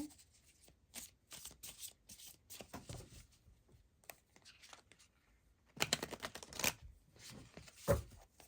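Tarot cards shuffled by hand in soft, quick riffling bursts separated by short pauses, with a louder flurry of shuffling near the end; close and fairly quiet, with no talking.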